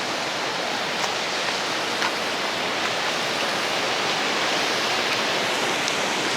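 Steady roar of Pisyo Falls, a Sierra Madre waterfall in Siniloan, Laguna, pouring into rocky pools; a dense, continuous rush of water fills the whole stretch, close and even with no voices.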